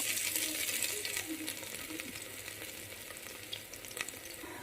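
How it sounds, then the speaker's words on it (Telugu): Cumin seeds and ginger garlic paste frying in hot oil in a pan for mint rice: a steady, close hiss of sizzling with small crackles and a few light clinks of a utensil, and no talking. "కొంచెం జీలకర్ర, జింజర్ గార్లిక్ పేస్ట్ వేసి కొంచెం ఫ్రై చేసుకోవాలి"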